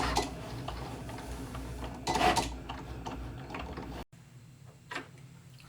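A Cricut cutting machine whirs and ticks quietly as its blade works through material on a mat. The soft mechanical movement runs steadily, with one brief, slightly louder burst.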